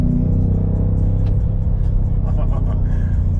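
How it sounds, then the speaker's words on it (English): A BMW M5 engine rumbles steadily with crackling exhaust pops and burbles off the throttle scattered over the low drone, recorded close by. "even when you let off the gas, this thing is just making the pops and the burbles"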